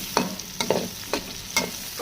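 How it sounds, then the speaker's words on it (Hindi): Garlic and ginger fry in a pan for chicken karahi, a steady sizzle broken by four or five rhythmic scraping stirs of a spoon, close and clear with no talk. "तो इसे करेंगे हम हल्का सा फ्राई इसमें।"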